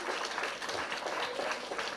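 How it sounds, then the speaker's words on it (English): Steady applause from an audience after an education quiz game, a dense wash of clapping that holds at even moderate loudness for the whole stretch with no voices on top. "Please give yourselves a big round of applause."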